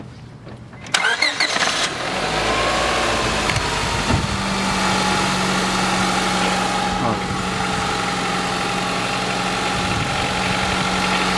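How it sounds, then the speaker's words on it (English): A 2001 Honda Civic engine cranks and catches after its thermostat replacement, then settles into a steady, close idle with an even hum that continues to the end. "we're going to turn the car on to bleed out more"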